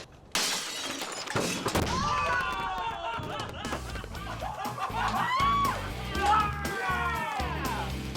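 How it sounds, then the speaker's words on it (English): A supersized lump of sodium hits water in a bathtub and blasts with a sudden loud burst and shattering debris, followed by excited voices shouting and cheering over lingering rumble. "Find out for the fans if supersizing the sodium will blast the bathtub."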